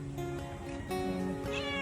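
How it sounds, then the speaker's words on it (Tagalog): Household cats meow repeatedly at close range with drawn-out, wavering cries, one after another, over a steady background hum and no talking. "Mama, ano pangalan nito mga pusa nila, Kuya Hil?"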